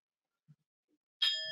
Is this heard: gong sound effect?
yes